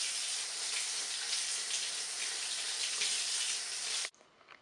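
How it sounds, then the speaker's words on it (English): Water runs from a kitchen tap over a banana in a steady, close hiss, then cuts off abruptly near the end. "First, wash your banana."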